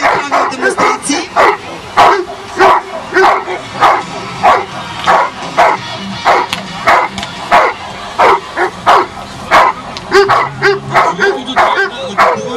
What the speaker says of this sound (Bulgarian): Това е едно младо куче, което ще демонстрира отбрана чрез цялостно нападение.